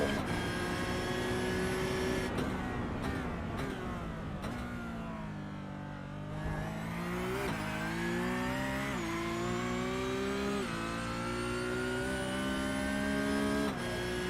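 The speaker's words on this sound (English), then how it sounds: "Let's have a listen and watch these cars and have a listen to them more." Porsche Cup race car engines in a sim racing game scream through gear changes, a loud whining roar that rises and drops at each upshift with no talking.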